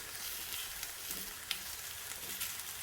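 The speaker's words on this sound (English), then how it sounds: "You don't want to burn them, just toast them up a little bit." Chile peppers toasting in a hot pan for chile verde, a steady soft sizzle and crackle with a few light stirring scrapes, close and continuous, no talking.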